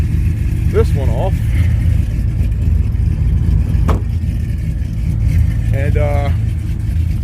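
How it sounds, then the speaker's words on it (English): A cammed Ram with a 5.7 Hemi V8 idles in a steady, loud low rumble throughout, with someone talking over it in short bursts. "as you can hear, this Ram, the Ram is cammed and everything else"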